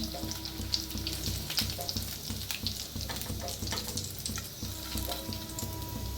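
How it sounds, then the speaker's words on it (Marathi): Bread balls deep-frying in hot oil give a steady, close crackling sizzle with bright popping bursts throughout, occasionally joined by a faint clink of a utensil. "तर मस्त असं तळायला लागलेले आहेत आपले"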